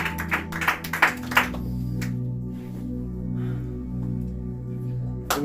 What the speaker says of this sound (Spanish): Dale un fuerte aplauso para él